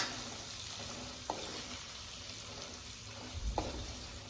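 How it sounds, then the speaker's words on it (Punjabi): Green chilies and ginger stirred into hot oil with the gas off, a faint low sizzle broken by a couple of brief scraping stirs near the start and end. "ਮਿਰਚਾਂ ਤੇ ਅਦਰਕ ਇਹ ਤੇਲ 'ਚ ਮਿਕਸ ਕਰ ਦਾਂਗੇ"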